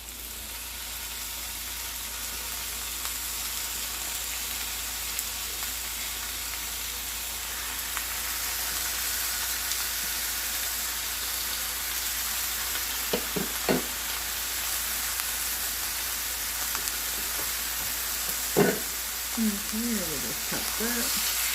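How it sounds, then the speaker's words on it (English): Meat frying in a heated skillet on medium-high heat, a steady even sizzle that runs throughout, with a few brief clinks and scrapes near the end. "I have my meat on medium-high heat."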